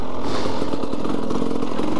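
A 300cc two-stroke enduro motorcycle engine revving loud and close, a buzzy, raspy drone with rapid pulsing throughout the short burst, and no voices.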